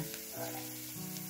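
Garlic hits a hot pan in a tomato-cream sauce dish and gives off a steady, soft sizzle, a short close frying sound heard with no voices over it.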